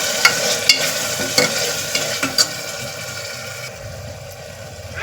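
A tomato mixture for pulao is stirred and fried in a pan, with a steady sizzle broken by several sharp scrapes and clinks of the spoon against the pan, close up and without talk.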